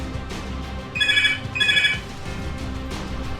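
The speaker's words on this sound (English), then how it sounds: "My phone is ringing in the background." A phone rings in the background of a room, with two short bursts of electronic ringing, moderately loud, against low ambient noise.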